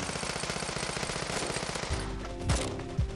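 Rapid automatic gunfire from the mobile shooter game Bullet Force rattles in a dense, even stream, then gives way to a few heavier bursts and thumps; no talking.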